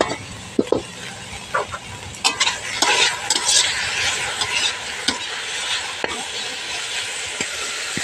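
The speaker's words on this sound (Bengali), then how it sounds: "আমি ঢাকনা খুলে এখন একটু নেড়ে চেড়ে নেব।" Food frying in a pan sizzles steadily while a spatula stirs and scrapes through it, with occasional sharp knocks against the pan, close and moderately loud.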